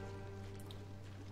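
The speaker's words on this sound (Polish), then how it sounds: "czemu to ciągle leje? To jest już chyba czwarty dzień, kiedy pada, nie?" Rain falling in the video game Wartales, a quiet, steady patter over a low hum, faint and continuous through the short stretch.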